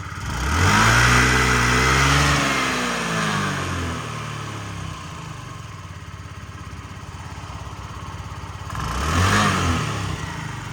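A Yamaha BWS 49 four-stroke fuel-injected scooter engine idles and revs, rising in pitch briefly at the start and again near the end, loud and close.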